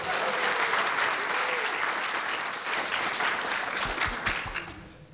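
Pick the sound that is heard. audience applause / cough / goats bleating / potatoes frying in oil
audience applause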